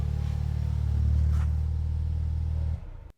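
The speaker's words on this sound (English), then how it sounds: "I obviously started the engine" A car engine idles with a steady low hum, swells slightly as if briefly revved, then cuts off abruptly near the end as the ignition is switched off during a battery test.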